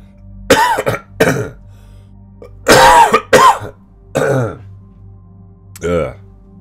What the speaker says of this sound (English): Sorry, I kind of was coughing into the mic.